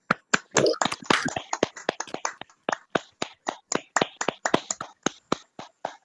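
Participants in an online poetry meeting clap for a reader: scattered, uneven hand claps from several people, crisp and close, thinning out over a few seconds.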